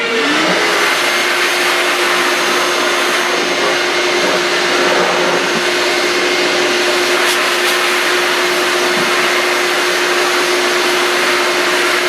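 An air blower hisses steadily and loudly, blowing dust off a carved walnut panel, a continuous close rush of air with a steady motor hum and no speech.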